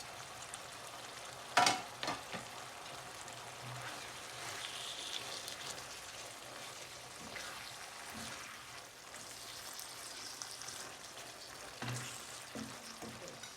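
Chopped chilies sizzling in frying keema curry in a home Indian kitchen, a soft steady crackle and hiss with occasional utensil clinks, fairly faint throughout.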